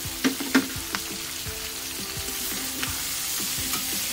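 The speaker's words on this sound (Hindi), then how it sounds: "बस अब चिकन भी इसके साथ फ्राई हो रहा है" Chicken frying in a pan with onions, garlic, ginger, tomatoes and green chillies gives a steady close sizzle, broken by a few sharp clinks and scrapes of stirring near the start.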